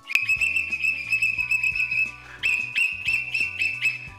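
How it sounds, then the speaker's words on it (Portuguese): A whistle built into a Ziggy World Cup cup is blown in a run of short, shrill toots, some stretched into longer notes, loud and close with no talking. "eu vou começar a apitar, gente"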